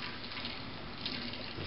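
Tap water runs in a steady, even rush into a sink while basmati rice is rinsed, close and continuous with no breaks.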